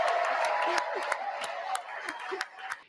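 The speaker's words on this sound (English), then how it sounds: "So we're at a 2-minute standing ovation right now." Standing ovation in the US Congress, dense sustained clapping from a large crowd, heard somewhat distant beneath someone talking over it.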